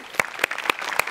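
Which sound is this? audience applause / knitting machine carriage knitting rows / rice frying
audience applause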